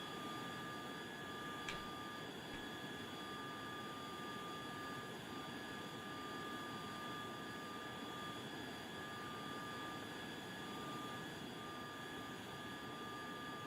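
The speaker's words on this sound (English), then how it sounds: "I'm going to land it here like a conventional plane." Aircraft engine drone in the video game Tiny Combat Arena as a plane comes in for a rough, misaligned landing, a steady continuous hum with faint hiss holding at even, moderate loudness throughout, no talk.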